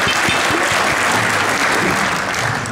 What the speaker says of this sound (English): Y'all need to give a better round of applause.